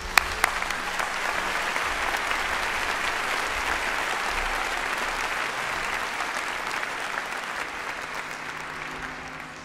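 An audience at a university postgraduate graduation ceremony applauds the graduates, sustained even clapping from a large hall crowd that continues for several seconds and tapers slightly toward the end.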